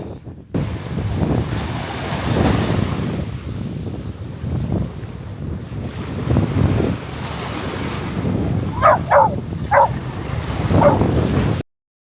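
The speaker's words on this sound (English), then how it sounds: "the wind really just has not let up" Strong, gusting wind buffets the microphone on a beach at Ningaloo, with surf rumbling underneath in swelling surges and a few brief dog barks near the end.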